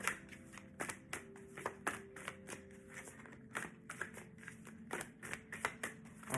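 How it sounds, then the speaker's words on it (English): A tarot card deck being shuffled up close, with soft, quiet, irregular riffling flicks and taps repeating throughout, and no voices. "let's shuffle the deck and get the messages"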